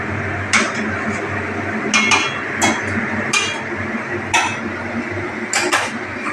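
Chicken curry being stirred in a cooking pot, with a spoon scraping and clinking against the metal in scattered bursts over a steady low simmer, close and moderately loud.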